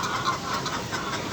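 Australorp hen on a farm giving a brief, soft cluck, faint and close, with no other sounds around it.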